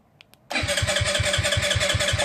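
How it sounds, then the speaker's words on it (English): A GY6 scooter engine cranks without firing: after a couple of faint clicks, the starter churns in a loud, steady run of rhythmic pulses that never catches and settles into running. "Now you can see it try to crank,"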